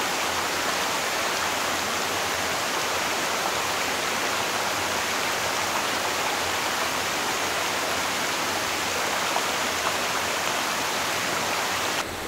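Clear mountain stream in a shaded valley, rushing water making a dense, steady hiss with no pauses, near and continuous.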